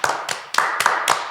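A small group at a Korean church crew night claps in several short bursts, sharp and close, with brief pauses between rounds of hand claps.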